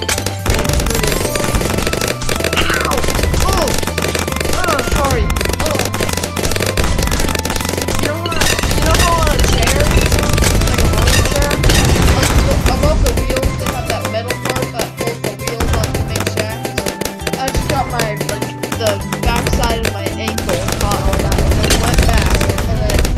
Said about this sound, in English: And this bomb shoots out more bombs.